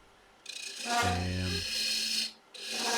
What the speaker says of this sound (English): That's a little 1/2-inch spindle gouge. So I'm just going to start nibbling away at the inside.